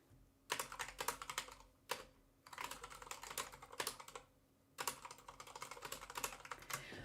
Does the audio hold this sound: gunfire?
no